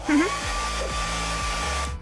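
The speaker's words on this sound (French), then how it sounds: "Attends, laisse-moi utiliser mon sèche-cheveux." A hair dryer blows with a steady, loud whooshing roar, its motor hum holding constant for about two seconds before cutting off.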